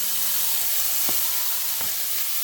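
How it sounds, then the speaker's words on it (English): Vegetables hit a very hot pan with a steady, loud sizzle and hiss, broken by a couple of brief clinks or stirring taps, with no voices. "So what I'm going to do now is just slowly go ahead and add these veggies."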